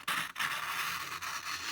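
Sharp scissors snipping through paper up close, a steady dry scraping cut running almost continuously with a couple of brief pauses.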